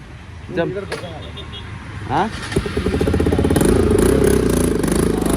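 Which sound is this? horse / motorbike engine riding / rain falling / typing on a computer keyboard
motorbike engine riding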